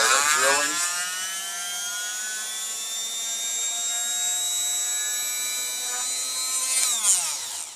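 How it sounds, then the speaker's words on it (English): Power drill motor revving up, then holding a steady high-pitched whine for several seconds before winding down, loud and close with no talking. "we're going to go ahead and start our drilling"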